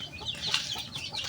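Chickens kept as gamefowl cluck steadily while being fed, a busy, continuous patter of soft calls from several birds close by.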